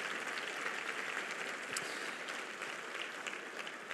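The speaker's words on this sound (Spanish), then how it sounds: "damos un aplauso de gloria al Señor" A church congregation applauds steadily for a few seconds, a soft, even patter of clapping heard from a distance.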